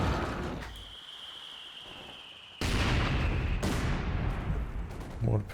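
Mortar and artillery fire in a Company of Heroes 2 battle: a dull launch followed by heavy booming blasts that swell into a loud, sustained roar of explosions, with a thin high whine running through the early part.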